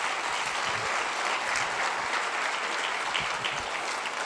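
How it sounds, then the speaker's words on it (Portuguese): Sustained applause from a church congregation during a Quadrangular worship service, a dense, steady wash of many hands clapping at a constant level throughout. "Vamos aplaudir Jesus"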